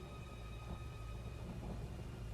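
Steady heavy rain hisses through a stormy scene in the video game Uncharted 4, with a low thunder rumble rolling underneath, continuous and fairly close, with no voices.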